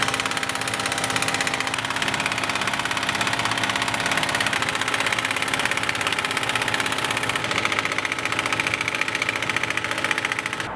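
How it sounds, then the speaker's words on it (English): A 1/2 inch drive impact gun with an 18 mm socket hammers continuously at the bolts holding the front wheel bearing to the hub on a BMW E39, a loud, dense, steady rattling buzz up close with no break. "let's take our 18 millimeter socket, our 1/2 inch drive impact gun, and we'll remove the 4 bolts that are securing the wheel bearing to the wheel hub"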